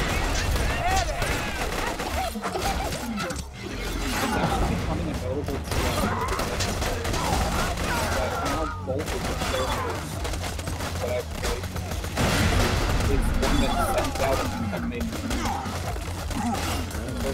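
Rapid gunfire from the Borderlands video game, dense continuous bursts of shots filling the scene with near-constant loud crackle, with people talking over the shooting throughout.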